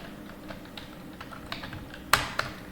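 Computer keyboard keys tapped while a supplier name is typed into Tally ERP-9 purchase order software, a scatter of soft clicks at a close, quiet level and then a sharper pair of louder keystrokes near the end.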